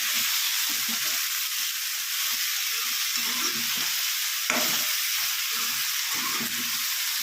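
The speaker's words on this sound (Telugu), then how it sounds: "ఈ టైంలో టమాటా వేసుకోవాలి. టమాటా కూడా కాస్త వేగనివ్వాలి." Chopped tomato frying with raw banana pieces in a pan for a gravy curry, a loud continuous sizzle with intermittent stirring scrapes and clatter, no voices.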